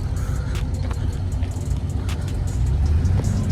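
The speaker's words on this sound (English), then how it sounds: "We got Chrissy pulling up in the Durango" A Dodge Durango rolls up at a car club meet, its engine a steady close rumble with a slight rise in revs, no talk over it.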